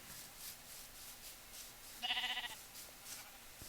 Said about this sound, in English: Ugh, just more sheep.